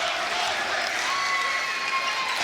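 A gym crowd at a boys high school basketball game cheers and claps in a steady, dense wash of applause, with loud excited voices mixed in.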